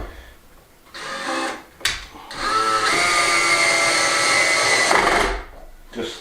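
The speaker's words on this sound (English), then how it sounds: "I've got the drill on a very low torque setting so we don't rip them out either." A power drill set to low torque drives screws in a hay loft, with a short whirring burst, a click, then a longer steady whine that ends abruptly, loud and close.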